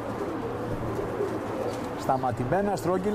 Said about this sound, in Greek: Ωραία περιστέρια.